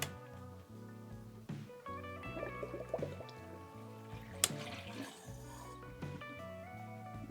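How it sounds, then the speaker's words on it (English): Coolant gurgles and trickles through a PC water cooling loop, faint bubbling and dripping over a low steady pump hum with a few brief sharp clicks, close and quiet. "I'm gonna turn it on and let the coolant start flowing."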